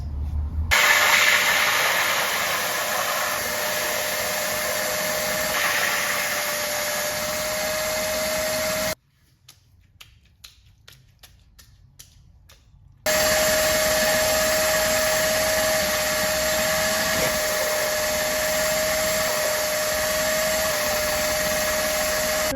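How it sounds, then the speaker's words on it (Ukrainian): A household vacuum cleaner with a washing attachment, used on a rug, roars loudly with a steady whine, cuts off briefly while a few clicks and bumps are heard, then starts up again. "одягаємо насадку та запускаємо пилосос"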